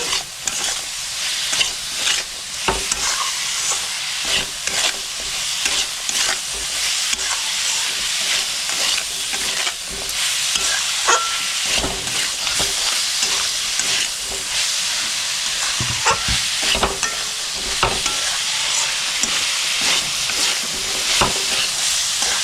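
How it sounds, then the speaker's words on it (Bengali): Chicken soup mixture seasoned with black pepper powder is stirred steadily in a pot, giving continuous scraping and clacking from the spoon over a hissing sizzle, close and fairly loud throughout with no talk. "গোলমরিচের গুঁড়ো দিয়েও ভালো করে মিক্স করে নিচ্ছি"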